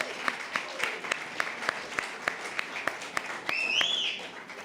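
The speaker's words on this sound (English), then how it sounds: "one more big round of applause for PY Media" An awards ceremony audience applauds for PY Media, a steady, moderately distant crowd clapping marked by regular sharp claps, with a brief whistle-like tone near the end.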